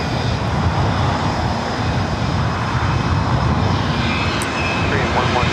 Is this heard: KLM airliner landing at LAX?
yes